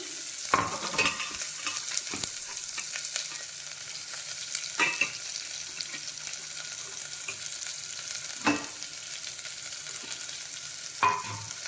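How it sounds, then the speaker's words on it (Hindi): Onions and whole spices frying in a pan, with a steady soft sizzle running throughout and occasional sharp clinks of a spoon stirring, close and alone without talk. "अब ये प्याज मैं डाल रही हूँ।"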